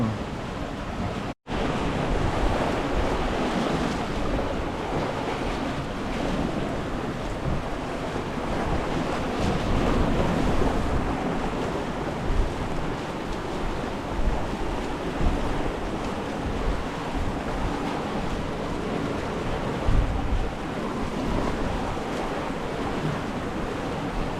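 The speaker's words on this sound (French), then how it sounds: "c'est bizarre comment le vent s'est levé brusquement dès le coucher du soleil" Wind that rose suddenly at sunset to over 20 knots roars over rough open sea during an Atlantic crossing from Guatemala to France, with continuous crashing waves and gusts buffeting the microphone for a long stretch.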